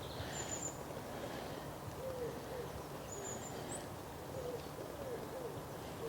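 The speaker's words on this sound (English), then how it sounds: "You can hear the wood pigeon in the background there" A wood pigeon coos softly in the background of a park near a pond, its low repeated calls faint and distant under steady outdoor ambience and occasional higher bird chirps.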